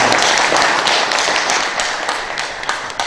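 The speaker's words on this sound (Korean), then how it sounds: "우리 김철도 선생님께 다시 한번 큰 박수" Loud, sustained applause from a seated audience at a public briefing in Yeongcheon on digitized old printed books: many hands clapping in a dense, steady wash that thins slightly toward the end.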